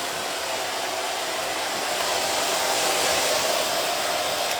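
Hair dryer blows on short layered hair during a women's haircut, a steady loud rushing whir held for the whole stretch without a break.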